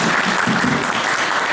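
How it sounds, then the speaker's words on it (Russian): Dense applause from an audience honouring young cadets at a veterans' gathering before Defender of the Fatherland Day, a steady loud wash of many hands clapping throughout. "Давайте подарим еще раз им аплодисменты."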